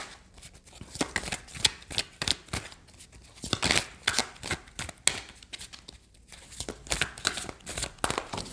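Tarot cards are shuffled by hand in quick papery bursts, riffling and sliding close to the microphone in irregular clusters with brief pauses between them.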